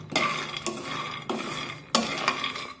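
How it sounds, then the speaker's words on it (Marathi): Peanuts roasting in a pan over medium heat are stirred in about four quick scraping sweeps. Each sweep brings a rattling clatter, with a soft sizzle underneath. "एकसारखे या शेंगदाण्यांना असं हलवून घेऊया, म्हणजे ते सगळीकडून एकसारखे भाजले जातील।"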